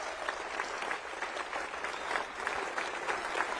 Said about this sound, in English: If you would give this man that big a round of applause